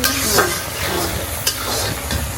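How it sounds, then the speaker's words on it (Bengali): Chana dal sautéing in a pan for an egg and lentil dish, a steady close sizzle with scraping stir strokes and a few sharp utensil clicks, no talk. "ডাল কষানো হচ্ছে।"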